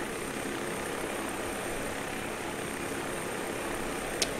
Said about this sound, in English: let me put my helicopter down here in the parking lot